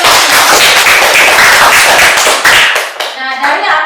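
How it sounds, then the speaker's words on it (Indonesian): Classmates clapping together in a classroom, a close, loud burst of hand claps for about three seconds that fades out, followed by a brief voice. "tepuk tangan buat teman-teman"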